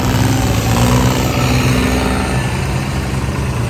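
Tractors heading out for flood embankment work in Punjab give a steady, loud, low engine drone that holds without a clear rise or fall.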